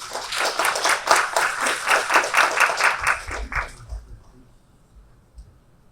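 Audience applause at a formal Korea–ASEAN partnership conference session greets dignitaries coming to the stage: a steady run of rhythmic clapping that thins out and fades after about three and a half seconds, leaving a quiet room.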